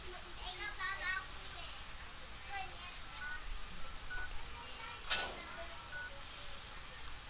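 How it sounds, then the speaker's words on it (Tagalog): Short, faint keypad dialing beeps come from a repaired Oppo A5S smartphone on a repair bench, spaced a second or so apart, with quiet talking and background noise around them. "Dial ang telepono."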